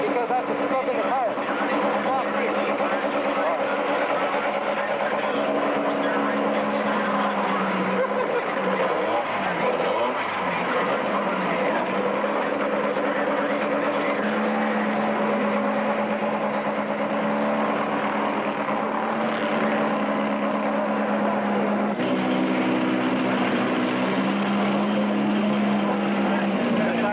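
A race car on a track during a 12-hour endurance race, taking easy laps to scrub in its tires, drones with a steady, continuous engine note for the whole stretch while voices talk over it.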